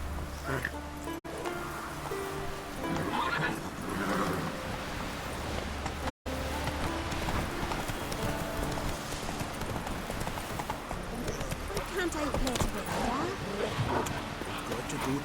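Roach, Geralt's horse in The Witcher 3, galloping with steady rhythmic clip-clop hoofbeats close by, a whinny surfacing, and voices talking over the hooves through most of the stretch.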